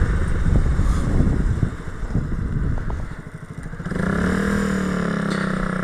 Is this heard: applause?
no